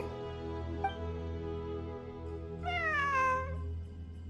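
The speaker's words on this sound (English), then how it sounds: "It really is a cat." A cat meows in a game world, first a brief faint call, then a longer, louder rising-and-falling meow near the end, heard over a steady, droning background of music or ambience.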